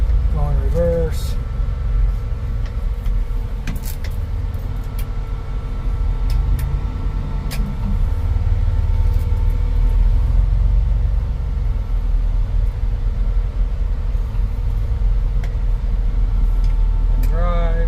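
A 1954 GMC COE truck rumbles in reverse with a steady, heavy low engine drone close by, and a few clicks and rattles sound over it throughout.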